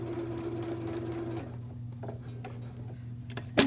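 A sewing machine stay-stitches the neckband of a tee shirt, running as a quiet, steady mechanical hum with a soft ticking needle rhythm. Partway through the tone drops lower, and a small clack comes at the end.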